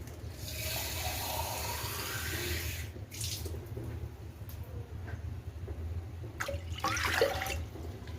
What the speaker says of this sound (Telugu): వాటర్ పోసుకుందాం